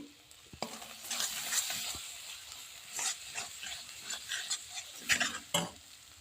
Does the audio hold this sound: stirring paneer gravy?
yes